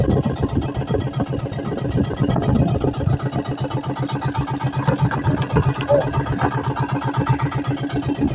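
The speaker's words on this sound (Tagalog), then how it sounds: "Jer, patayin na natin yung makina." A small fishing boat's motor runs steadily at idle, a mid-pitched chugging drone with a regular throb, close and continuous, with no voices.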